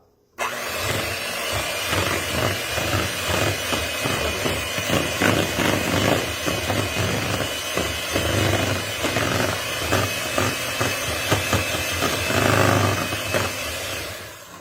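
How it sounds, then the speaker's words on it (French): An electric mixer beats four eggs for a keto carrot cake, a loud steady motorized whir starting abruptly after a brief silence and running continuously with gritty fluctuations until the end. "4 œufs qu'on bat."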